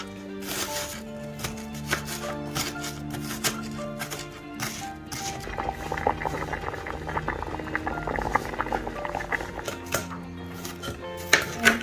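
A pot of potatoes bubbles at a steady boil, with a constant rolling simmer and occasional clinks of kitchenware nearby.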